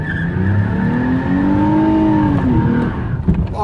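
A car doing a burnout uphill, its tires spinning and squealing in a loud, steady screech as the engine revs and holds high, then drops away near the end.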